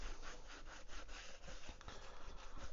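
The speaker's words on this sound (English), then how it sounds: "So I just rub it into the boot" Obenauf's leather treatment is worked into a leather boot by hand, making a faint, close, continuous scuffing and rubbing with an uneven back-and-forth texture.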